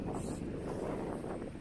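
Wind gusts buffet the microphone in a low, steady rumble, with no other sounds standing out.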